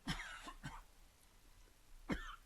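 A man coughs and clears his throat close to a studio microphone during a morning news radio interview, three short bursts with a quiet pause between them.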